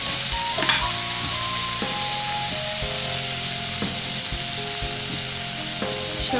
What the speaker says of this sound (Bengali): এইভাবে পাঁপড় ভেজে আমাদের খেতে ভীষণ ভালো লাগে